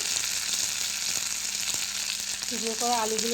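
Spices and other ingredients fried and stirred in hot oil for a Bengali hilsa-head and ash gourd dish, a loud steady sizzle with spoon scrapes, and a voice rising briefly near the end.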